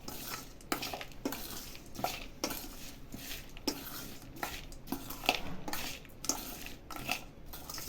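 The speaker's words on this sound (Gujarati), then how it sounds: "હવે તેને મિક્સ કરી દઈશું" A spoon scrapes and clinks against a steel bowl while raw mango, onion, jaggery and spices are stirred into a Gujarati kachumber salad, with rhythmic, fairly quiet metallic taps repeating through the mixing.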